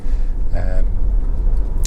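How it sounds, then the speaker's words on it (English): A Honda CR-V 2.0 i-VTEC four-cylinder petrol engine with automatic gearbox and 4WD runs while driving normally, a low steady hum beneath road noise, with someone talking over it. "Driving normally as I am now, it's got a sweet nature to the engine, it's very tractable."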